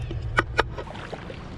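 Kayak paddle strokes on the water heading toward Three Sisters Springs, two distinct splashy dips close together near the start and a softer one later, over a low steady rumble of wind and motion.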